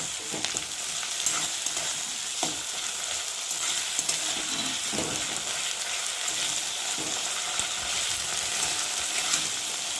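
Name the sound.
frying spice masala with green chili in a pan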